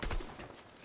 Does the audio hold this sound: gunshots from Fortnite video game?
yes